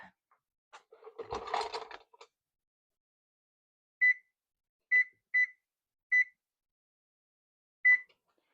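An oven control panel gives a clatter of kitchen handling, then five short, clear electronic beeps at uneven intervals as the preheat is set to 325, each isolated in a quiet room.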